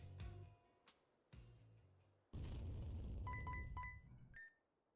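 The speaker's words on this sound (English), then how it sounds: "I could barely hear it, but it sounded like an explosion" Pokemon Rejuvenation video-game explosion: a short burst, then a louder sustained booming rumble with chime-like tones, fading away at the end.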